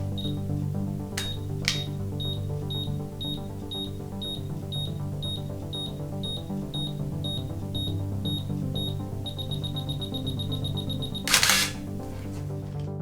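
A Canon EOS 850 film SLR runs its self-timer, emitting a steady series of evenly spaced high beeps that speed up near the end, framed by mechanical clicks and a crisp shutter release with mirror slap, all up close over low background hum.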